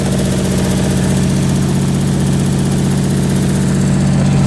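A Nissan 300ZX engine running steadily just after starting, a loud, close, continuous idle rumble with even pulsing and no voices.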